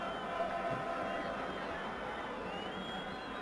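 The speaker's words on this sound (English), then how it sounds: "You can hear the vuvuzela making plenty of racket" Continuous droning of vuvuzelas blown by a lively crowd at National Stadium in Harare before a Zimbabwe versus Somalia football match, a dense, steady buzzing wall of sound with overlapping horn tones throughout.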